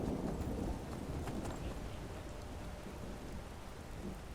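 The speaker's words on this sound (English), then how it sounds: "One thing it never fails to amaze me is how much it can rain in Skyrim." Steady rain falls in Skyrim with horse hoofbeats clip-clopping along a road. The rain forms a continuous wash with faint rumbling, and no one speaks.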